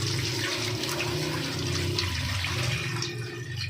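Broth poured into a pot of boiling pork for Filipino nilagang baboy, a steady, loud rush of liquid splashing and bubbling continuously throughout, with no talk.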